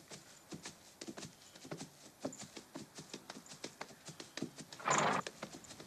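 Horse hooves clip-clop in a steady, fairly close rhythm during a ride, with a short burst of noise near the end.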